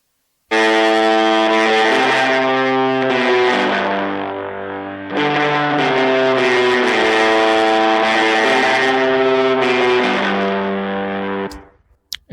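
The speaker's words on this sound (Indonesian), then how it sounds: "Itu gue kasih reverb, tapi reverbnya tipis banget, pre-delay dan buntut time-nya, tapi gue pending ke kiri reverbnya." A distorted electric guitar carries a thin reverb with pre-delay and a short tail panned to the left, sounding sustained, loud chords that change every second or two, with a small click at the very end.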